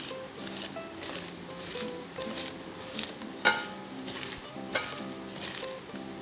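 Onions and spices sizzle softly in a pan, crackling steadily as they are rubbed and pressed together by hand, with repeated scraping strokes and a couple of sharper knocks.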